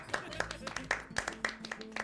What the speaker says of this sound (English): You hear applause and laughter.